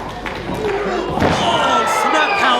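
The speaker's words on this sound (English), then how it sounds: "Slammed by Pitt" A wrestler is slammed onto the ring mat during a tag team match at an EPW Evolution show, with a dull thump rising over steady crowd noise and commentary.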